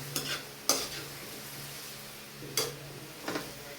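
A spoon scrapes and stirs sautéed vegetables with soy sauce and flaked leftover fried fish in a pan, with a few sharp scrapes over a soft, steady sizzle and no talking.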